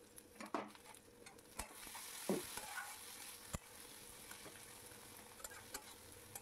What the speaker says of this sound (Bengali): আমি আর আলাদা করে ভাজিনি, একবারে ভেজে নিলাম।